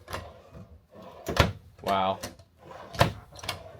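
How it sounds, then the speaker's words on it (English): Kitchen drawers in a Nexus Maximus Super C motorhome slide out with several sharp knocks and rolling thuds, close and fairly loud, while people talk nearby. "And then pull out these drawers for me"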